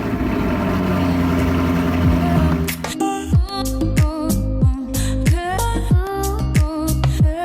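A custom-built supercar engine idles with a steady, rich burble, then revs through a run of sharp, loud throttle blips and gear-change dips as the car pulls out close by, with no talking.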